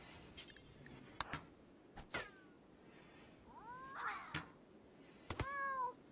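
Cats in the video game RimWorld let out several rising, wavering meows spaced apart over a quiet background, mixed with a few sharp clicks, moderately close and fairly soft, with no talking.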